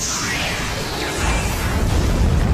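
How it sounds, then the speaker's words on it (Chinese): A huge booming blast as a sword strike hits the entrance of a canyon, a dense noisy roar that swells into a deep, rumbling low end and keeps rolling through to the end. "轰的一声巨响，整个峡谷疯狂地震颤着，动静大得吓人。"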